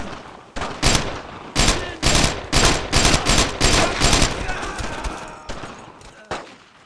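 Gunfire from a World War II battle on Utah Beach in the video game Brothers In Arms: Road To Hill 30, loud repeated bursts of rifle and machine-gun shots in an uneven rhythm, with a few shouted voices mixed in.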